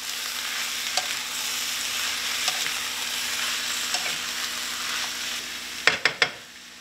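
Mutton snapper pieces fry in a hot curry base with softened carrots, giving a steady close sizzle, faint scraping of stirring and a few sharp clacks of a utensil near the end.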